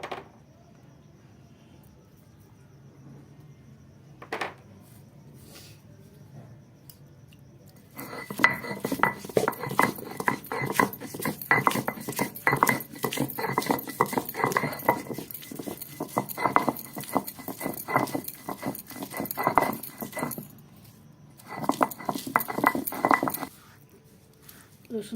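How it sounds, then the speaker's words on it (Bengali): Garlic and ginger are ground together into a paste, heard as a run of repeated scraping and knocking strokes on a hard surface that start after a quiet opening, stop briefly near the end and then resume. "রসুন আর আদা একসাথে বেটে নেব।"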